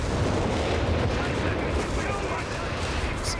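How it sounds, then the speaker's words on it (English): Mortar fire in Company of Heroes 3 on a 3v3 Gazala bunker map, heard as a dense, steady wash of battle noise with booming impacts and crackling gunfire blended into a constant loud din. "A bit of mortar fire as well."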